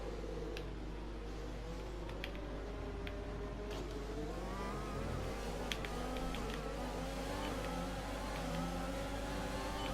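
An F1 2020 race car screams at full throttle down the main straight at the Spanish circuit, its high engine note holding steady and climbing slightly through upshifts, loud and continuous with no talk over it.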